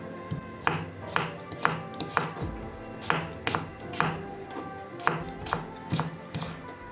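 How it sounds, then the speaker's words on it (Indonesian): Knife chopping garlic cloves into small pieces on a board, a series of sharp, close thuds in an uneven rhythm, about a dozen cuts, with no talking. "Saya potong lebih kecil untuk bawang putihnya supaya lebih mudah saat"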